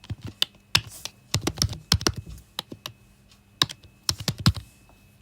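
Close computer keyboard typing Python code, quick irregular clusters of crisp key clacks separated by short pauses, loud and alone without any voice.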